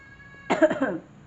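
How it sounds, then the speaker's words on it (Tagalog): A single harsh cough bursts out close to the microphone after a moment of quiet with a faint electrical hum. "Inuubo ako, sakit na lalamunan ko."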